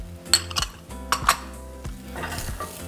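Onion and jalapeño go into a hot skillet with lard, with clinks and scrapes of a utensil against the pan and a soft sizzle underneath, fairly quiet and close.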